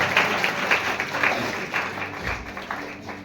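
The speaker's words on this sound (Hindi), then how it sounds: "उनके लिए हम लोग ताली बजाकर परमेश्वर को धन्यवाद देंगे।" Congregation in a church clapping to thank God for the worship team, a dense, steady wash of applause from many hands filling the room, holding at an even level throughout.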